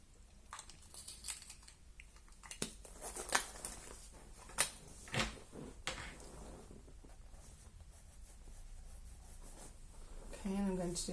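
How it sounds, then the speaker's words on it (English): A pencil is sharpened with a small handheld sharpener during portrait drawing, giving soft scraping and grinding strokes at close range, broken by brief rustles and taps. "I should sharpen my pencil a little bit."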